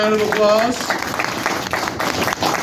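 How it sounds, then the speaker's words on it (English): An audience at a comedy headline show applauds with a dense wash of clapping, continuous across the moment, while a voice speaks over it at the start. "Everyone give her a round of applause"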